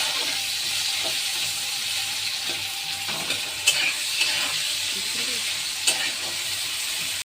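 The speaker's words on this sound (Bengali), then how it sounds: "এবার আমি দিয়ে দিচ্ছি একটু পেঁয়াজ। পেঁয়াজটা একটু ভাজা ভাজা হলে, একটু কালার চেঞ্জ হবে পেঁয়াজটা।" Onions frying in hot oil in a pan, a steady close sizzle with soft stirring scrapes and a few brief clinks, no voices.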